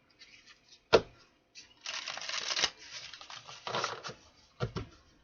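Tarot cards riffle and snap together in quick bursts, close and fairly quiet, with short pauses between shuffles.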